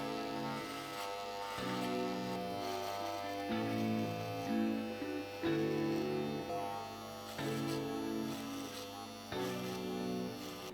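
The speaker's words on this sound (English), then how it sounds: "we're just using the trimmer at a 0 without any guard" An electric hair clipper used as a trimmer at zero with no guard, cutting a fade: a continuous close buzzing drone that wavers in pitch and load as it moves through the hair.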